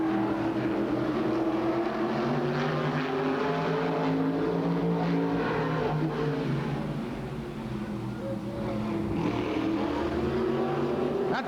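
Race cars on the final lap at Altamont Raceway Park in 1983, with loud, continuous engine roar whose pitch rises and falls as the cars pass, a dense and unbroken sound from nearby.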